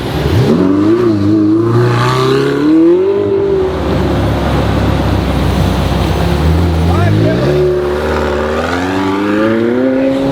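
A car accelerating hard in Dubai, the engine revving loud and close with rising pitch sweeps, a sustained roar between bursts while people talk over it.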